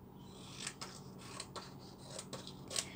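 Scissors cutting a paper journal page down to size, a close run of crisp, rhythmic snips and paper rustle repeating steadily over a faint background hum.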